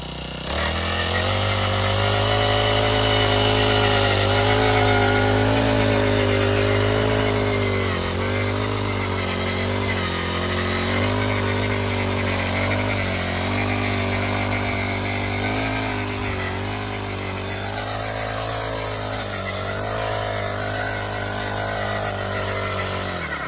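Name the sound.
engine-powered weeder (kolpani machine) running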